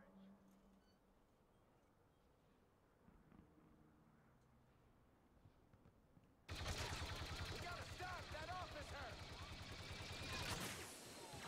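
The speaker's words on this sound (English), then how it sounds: "I'm getting on this turret" Rapid turret gunfire in the video game Star Wars Battlefront II breaks in suddenly after a quiet stretch and then rattles on as loud, continuous bursts to the end.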